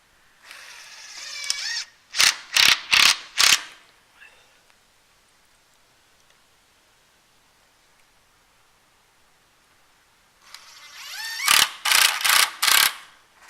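A power drill drives screws down into a pocket door frame in two separate bursts, each a whirring run-up followed by several sharp pulsing clicks, separated by a long quiet stretch.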